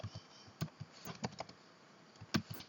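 Typing on a computer keyboard, a quick irregular run of close, crisp key taps with a few louder strikes near the end, alone without talk.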